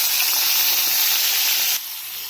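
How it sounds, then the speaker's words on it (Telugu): Tomatoes frying in hot oil while a tamarind-and-tomato chutney is prepared, giving a loud, steady broadband sizzle that drops suddenly to a quieter hiss near the end. "ఇలా అన్నీ తీసేసుకొని అదే ఆయిల్లో మనం ఇప్పుడు టమాటా ఫ్రై చేసుకుందాం"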